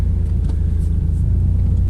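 A car engine idles steadily just after starting, a close, even low rumble with no talk over it; the car has 120,000 on the odometer.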